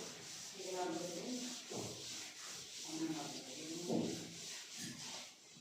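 A classroom board rubbed clean with a duster during a physics lesson, repeated scrubbing strokes in an uneven rhythm, close and steady, with the teacher's voice murmuring under the rubbing.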